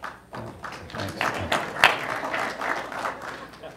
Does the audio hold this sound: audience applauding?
yes